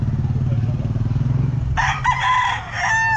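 A rooster crows loudly and close by at a Calumpit pet market, breaking in partway through after a low engine-like rumble, its long wavering call lasting to the end.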